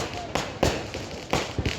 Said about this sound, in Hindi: आइए थारो मारो प्रेम और भव्य आतिशबाजी के एक अद्भुत नजारे के साथ गौरव देखेंगे।